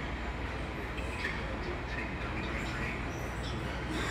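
A subway train rumbles at Penn Station in New York, a steady dense roar filling the platform with faint squeals and clatter and no pauses.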